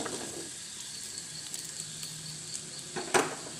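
Rice dough balls go into a pan of frying onion and chili, a steady soft sizzle topped by a short louder crackling burst near the end as they land.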